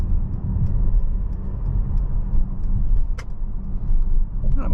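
Mercedes-Benz GLC300 Coupe engine while driving, a steady low rumble of engine and road noise heard from inside the cabin, continuous with faint ticks and rattles on top.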